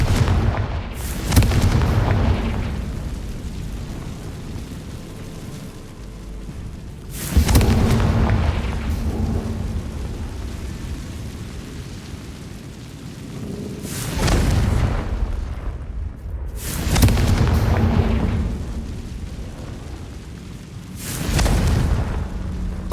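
The Confringo fire spell from the video game Hogwarts Legacy erupts in a string of five loud, rumbling explosions a few seconds apart, each decaying into a roaring tail.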